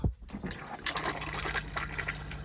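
Freshwater flush running into the cassette toilet of an Autotrail V-Line 363SE motorhome, a steady trickle and splash of water that starts after a short thump and flows on, close and moderately quiet.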